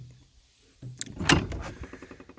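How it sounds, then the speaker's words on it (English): A homemade log-cabin door with a welded flat-bar and nut weight is pushed shut, giving a thud and clunk followed by a short rattling settle, close and moderately loud. "you press on the door, and then it closes like this"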